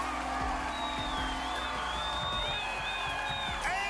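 Spectators at American Ninja Warrior cheer and whoop at a moderate distance as a competitor finishes, a steady roar of crowd noise with scattered shouts and whistles running throughout.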